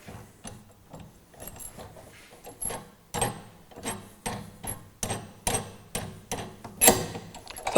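The rim clamp on a drum lifter dispenser (DTP08-R1260-DR) being released produces a series of close metallic clanks and jangling clicks, coming in regular bursts roughly every half second, with no one talking.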